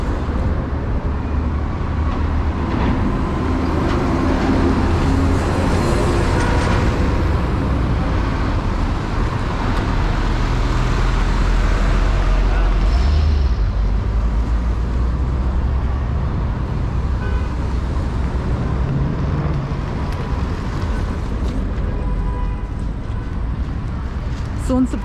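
Street traffic rolls steadily past a bus stop in Tashkent where city buses and minibuses stop, a loud, continuous roar of engines and tires with someone talking over it.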